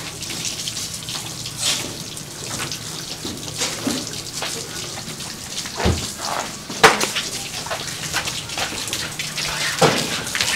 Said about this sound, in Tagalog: Umuulan eh, talagang ganyan, umuulan eh.